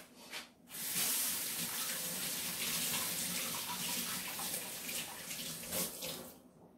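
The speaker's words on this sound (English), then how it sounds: "I'm going to wash them again." Hands are washed under a running kitchen tap, water splashing steadily and fairly close, starting after a brief pause and continuing with small shifts as the hands move in the stream.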